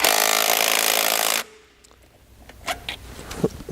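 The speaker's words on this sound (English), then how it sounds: "one of the first things we're going to do is loosen up the clamp" A loud power tool whines for over a second while loosening a hose clamp on a Dodge Cummins air intake, then stops, followed by quiet metallic clicks and handling noises.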